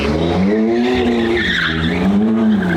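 A car spinning a donut sends out a loud, sustained tire squeal that wavers up and down in pitch as the tires skid round, close by and almost unbroken.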